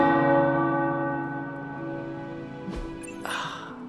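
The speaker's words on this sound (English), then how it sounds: "The tower bells are ringing." Deep, resonant tower bells in the video game Marvel's Midnight Suns ring out with a long sustained hum, slowly fading, punctuated by a couple of soft thuds near the end.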